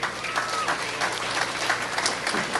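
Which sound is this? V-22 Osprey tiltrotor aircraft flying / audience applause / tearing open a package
audience applause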